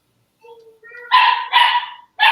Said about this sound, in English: I heard dogs.